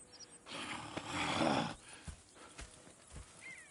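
Horses in Red Dead Redemption 2: a burst of snorting and whinnying noise, followed by scattered hoof clops and light thuds, close by and fairly loud.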